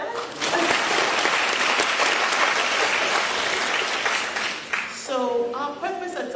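A crowd of delegates applauds in an auditorium at a children's conference at a school, dense sustained clapping that fills the room, then a voice speaks as it fades.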